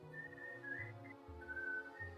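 Soft, sustained whistling drifts in the background, wavering in pitch in a few long phrases with brief breaks, faint and distant.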